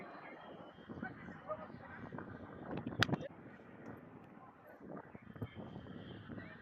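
Strong wind on a rain-soaked cricket ground, buffeting the microphone with rumbling gusts and one sharp burst midway, under a voice.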